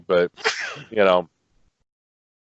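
A single sneeze bursts out between short bits of speech, close and loud, followed by quiet.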